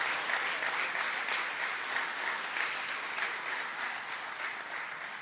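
An audience in Bhopal applauds to welcome a guest at the Acharya Shankar Ekatma Parv celebration, a thick, sustained wave of clapping from a large crowd that holds steady and eases slightly toward the end.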